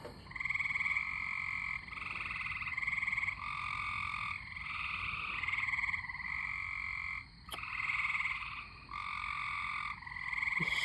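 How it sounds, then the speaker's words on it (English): Tree frogs croak in a steady, overlapping chorus of repeated trills through a stormy spring night near Troy, Illinois, continuous and moderately loud, with one sharp click partway through. "we got a lot of tree frogs croaking around right now."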